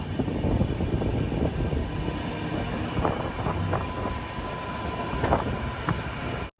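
An express train on the Bengaluru to Mangaluru line, in general class, runs between stations with a steady rolling rumble and scattered rattles and clanks, then the sound cuts off abruptly at the end.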